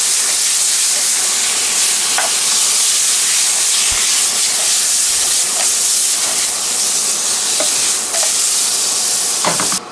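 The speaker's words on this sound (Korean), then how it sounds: "물을 일단 팔팔 끓여야 되거든요" Water boils hard in a pot for instant noodles, making a loud, continuous close-up hiss and roil with scattered small pops and bubbling bursts throughout.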